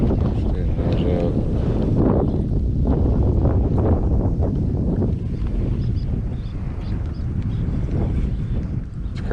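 Strong, nasty gusts of wind buffet the microphone while kayak bass fishing on a small Texas lake, a loud continuous low roar that swells and eases for the whole stretch, with no talking heard.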